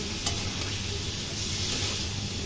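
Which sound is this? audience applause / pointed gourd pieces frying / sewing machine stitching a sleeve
pointed gourd pieces frying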